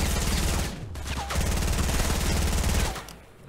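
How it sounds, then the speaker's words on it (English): Rapid, continuous SMG fire from the Fortnite battle royale video game, loud and close, in long sustained bursts with a brief break near one second before trailing off at the end, with no talking. "This SMG's so fast."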